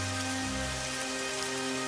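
Steady rain falls continuously, an even dense hiss with no pauses and no voices.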